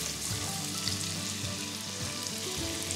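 Cumin and onions frying with garlic in oil for a chicken curry, a soft, continuous sizzle with faint crackle and occasional light stirring, fairly quiet and steady with no talk.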